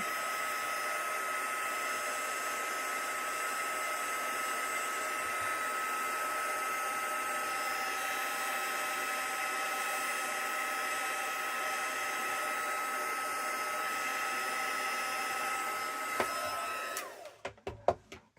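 A hair dryer blows steadily for about seventeen seconds to dry an inky mixed-media craft background. The airflow and motor whine hold even and close, then cut off with a few handling clicks at the end.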